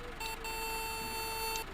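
A steady electronic reversing beeper on a farm machine in Farming Simulator 19, one sustained tone held for over a second over a low engine rumble, no talking.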